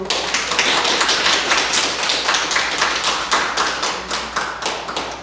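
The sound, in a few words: audience applause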